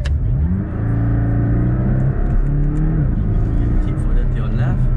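A 2019 Porsche sports car accelerates on a driving course at Sepang, its engine climbing through the revs with a steady, close, loud roar and a brief gear change. Voices can be heard over it.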